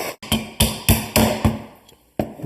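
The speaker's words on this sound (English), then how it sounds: "give it a quick tap on the bench" A bearing part is tapped against a workbench to knock the bearing out: six or seven sharp, close metallic taps in an uneven rhythm, each ringing briefly, with a pause before a final tap and no talking.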